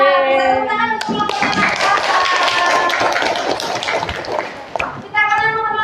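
Children clap their hands together in a classroom wayang lesson, a loud, dense burst of clapping that sits between spoken voices at the start and end.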